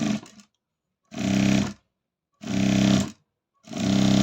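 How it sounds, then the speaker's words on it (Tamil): Sewing machine runs in three separate bursts of about half a second each while stitching folded fabric pieces for a sleeve, with a steady whirring hum, close and clear, with silence between runs. "இப்போ தையல் போட போகிறேங்க"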